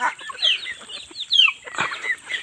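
Chickens and newly hatched chicks cluck and peep close by in a short, busy burst of overlapping calls with faint rustling.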